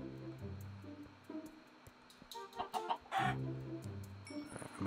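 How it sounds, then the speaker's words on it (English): Chickens cluck in the Minecraft video game with Advent of Ascension mod, a series of short clucks and fowl calls at close range alongside game sounds, with no talking. "I'm gonna get this chicken"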